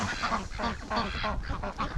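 Ducks quack repeatedly in quick, uneven bursts at close range while bathing and cleaning up outdoors near a truck at feeding time, with several birds calling over one another.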